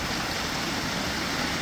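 A waterfall on a trail near Lake Superior gives a steady, close, full rush of falling water, dense and unbroken throughout with no voices.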